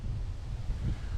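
Strong wind on a cloudy autumn day buffeting the microphone outdoors, a brief low rumbling roar with uneven gusty swells, continuous and fairly close with no voices.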